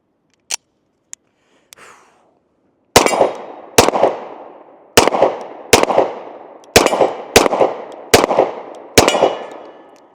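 Kimber Raptor 10mm 1911 pistol firing eight loud, sharp shots at a steady pace, each with a short ringing tail, after a few faint clicks and handling noises.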